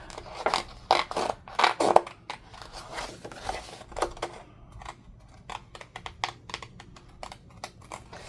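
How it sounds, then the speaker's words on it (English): Scissors snip through paper in a quick series of crisp cuts, close and bursty at first, then lighter, sparser snips. "we're going to cut out one of these smaller numbers"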